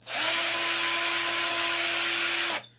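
A Snaiker Alman 58V cordless drill fitted with a wood-boring bit, trigger pressed fully and spinning freely with a slight wobble. It gives a loud, steady, high motor whine for about two and a half seconds, then cuts off abruptly.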